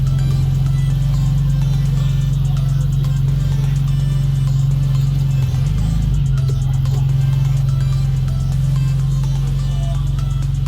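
A 2003 Porsche 996 Turbo rolls along the road with a loud, steady low engine drone and road rumble throughout, the tone swelling briefly midway before settling back.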